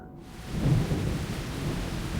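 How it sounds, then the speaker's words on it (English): Sudden downpour of rain with a low rumble of thunder in the Love and Deepspace video game, a steady broadband wash that swells and holds, with no voices. "Unexpectedly, what touches my lips before the kiss is a sudden downpour. It started raining."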